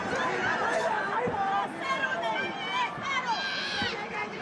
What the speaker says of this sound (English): As you can hear this massive crowd in Tokyo trying to rally support